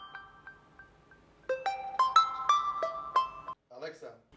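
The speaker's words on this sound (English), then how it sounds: "your phone should be ringing now" A phone rings with a melodic electronic tone, starting with soft repeated chimes and then swelling into a louder cascading ringtone tune, cut off abruptly before a short burst of speech.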